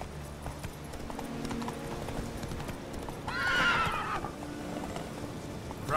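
A horse in The Witcher 3 gallops with steady, quick hoofbeats and lets out a loud neigh partway through, the sounds fairly close and clear over quiet ambience.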